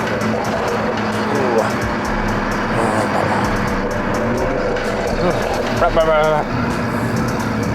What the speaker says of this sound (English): y'all hear those fucking turbo's